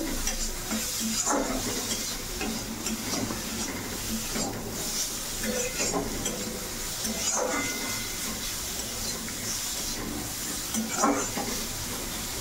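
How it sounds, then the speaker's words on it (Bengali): Turmeric and cumin powder fry with vegetables in a pan as an egg dish is cooked, a close sizzle broken by regular scraping and stirring strokes that continue throughout, without speech. "এই যে হলুদ আর জিরে গুঁড়ো দিয়ে একটু ভেজে নেব"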